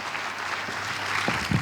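Audience applause after a song at a Christmas church service: a short burst of steady clapping from a gathered congregation, fairly close and without talk.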